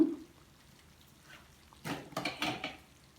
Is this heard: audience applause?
no